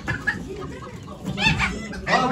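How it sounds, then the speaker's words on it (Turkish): Roosters and hens cluck and call at a poultry auction in Ankara, with bursts of clucking over a busy crowd and talk. "Abi gecenin en güzel horozu."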